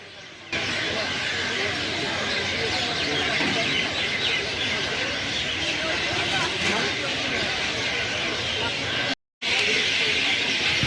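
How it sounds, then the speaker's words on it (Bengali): A dense, steady chorus of many birds roosting in a large tree at a railway station, loud and continuous throughout, with one brief dropout near the end. "এটা হচ্ছে স্টেশনের সবথেকে একটি বড় গাছ যেখানে অজস্র পাখি প্রচুর পরিমাণে পাখি এইখানেই বাস করে"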